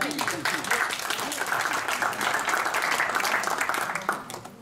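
Audience applause at a gathering in a Paris synagogue for the Jewish New Year, a steady wash of many hands clapping throughout, fairly distant, with voices murmuring underneath.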